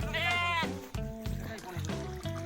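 Several sheep bleat loudly and repeatedly at close range while being washed in cold water, their wavering calls overlapping with people talking and splashing sounds.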